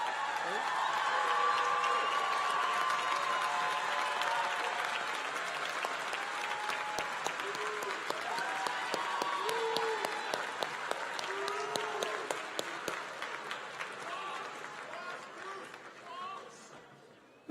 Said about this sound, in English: Please join me in applauding the Lasell College faculty.